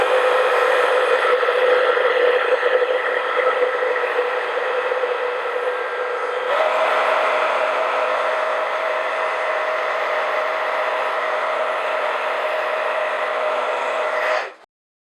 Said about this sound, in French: on peut utiliser un simple sèche-cheveux